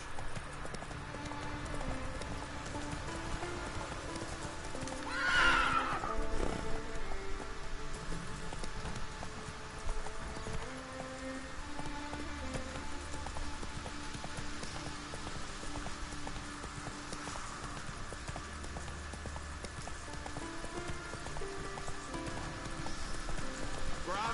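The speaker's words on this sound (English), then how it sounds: "Whoa there, Roach." Hooves clip-clopping steadily as a horse moves along in The Witcher 3, the rhythmic footfalls running the whole time over a busy game soundscape with faint rain-like texture.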